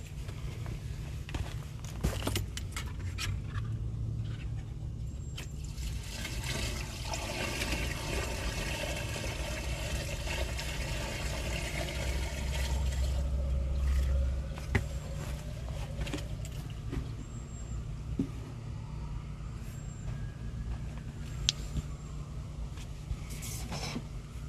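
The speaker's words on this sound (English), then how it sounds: "So we're going to dump the rest of the water down the line here" Leftover water dumped into a sewer line drains away with a steady, faint rushing and gurgling that runs for the whole stretch, with a few soft knocks and no voices.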